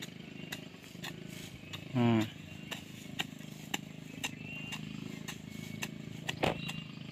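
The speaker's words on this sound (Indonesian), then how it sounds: "nah anda bisa lihat ya ada motor lalu lalang ya" Motorcycles pass along a road beside a ginger garden, one brief engine buzz rising and fading around the middle and a fainter second pass later, over steady outdoor background noise.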